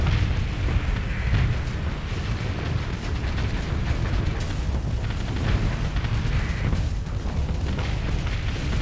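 Starsector space battle with torpedo explosions, a dense, continuous roar of booming blasts and rumble at steady high loudness.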